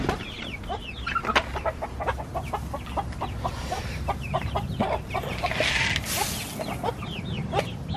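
A flock of chickens clucks steadily close by, with repeated short clucks and a brief louder squawk near the end, and no talk heard.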